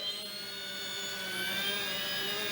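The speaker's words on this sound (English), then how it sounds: "Now I'm gonna go to idle up 1. That would normally spin up the RPMs quite a bit." An OMP Hobby M2 V3 Pro RC 3D helicopter rotor spinning at idle up: a steady, close, high-pitched whine and whir with layered tonal hums, rising slightly and holding for a couple of seconds.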